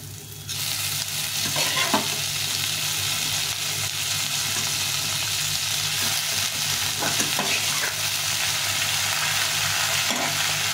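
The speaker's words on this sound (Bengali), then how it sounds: "মোচাটা সুন্দরভাবে ভেজে নিয়েছি" Boiled banana flower is frying in a pan with potato and rice for a Bengali mochar ghonto, giving a steady, close sizzle with the scrape of stirring throughout and no talk.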